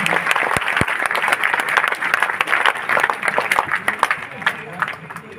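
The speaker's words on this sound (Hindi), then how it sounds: "आप सभी की जोरदार तालियां विमोचन के अवसर पर अपेक्षित।" Dense, sustained applause from an audience at a book release ceremony in Uttar Pradesh, many hands clapping continuously and fairly close throughout.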